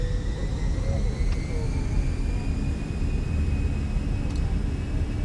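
Fenix Airbus A320 engines in Microsoft Flight Simulator spooling up on the runway for takeoff, a steady loud roar with a rising high whine tone sustained throughout.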